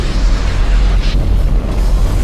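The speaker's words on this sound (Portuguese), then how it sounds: "Ativar canhão de gelo." A cartoon ice cannon fires with a low, rumbling boom, a steady roar underneath and a brief hiss partway through, loud and continuous.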